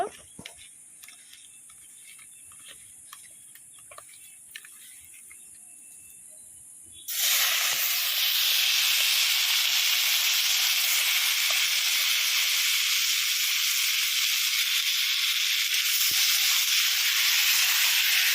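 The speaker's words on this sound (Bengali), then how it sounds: "অল্প তেলে হালকা করে চিংড়ি মাছগুলো ভেজে নেব।" Prawns drop into a little hot oil and fry lightly, bursting into a loud, steady hiss that holds on after a few seconds of quiet kitchen clinks.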